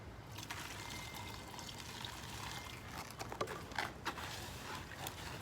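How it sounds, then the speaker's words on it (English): Water is poured into a concrete mix for homemade dumbbells, a continuous close trickling splash at low volume with a few brief louder glugs near the end. "you don't add too much water into it, because you can always add more water"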